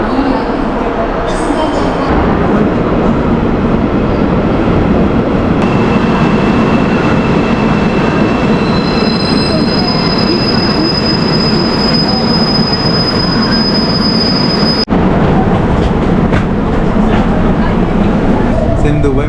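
A metro train in South Korea, on the line to Gimpo International Airport station, rumbles loudly and continuously with squealing wheels. High electric tones rise partway through, then break off with a sharp change in the rolling noise.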